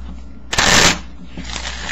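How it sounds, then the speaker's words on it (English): Overhand shuffle of a deck of playing cards, a single close riffling burst of about half a second, crisp and papery, standing out against a quiet room. "I did an overhand shuffle to get the card I'm forcing on top of the deck, like that"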